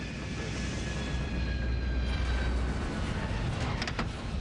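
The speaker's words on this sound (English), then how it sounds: "the aircraft touches down." An airliner touches down on a runway, heard as a heavy, steady low rumble with a faint whine of engines over it. The roar holds evenly throughout, and a couple of brief, thin higher sounds come near the end.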